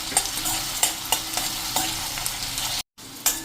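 Chopped onion with whole cumin seeds sizzles steadily in hot oil in a pan for a dhaba-style cluster bean curry, with regular scraping stirs of a spoon over the frying and a brief break near the end.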